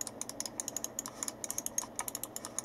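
Left and right buttons of a Gamdias Hades laser gaming mouse with Omron switches, clicked in a quick, steady run of crisp, light, close-up clicks with no talking.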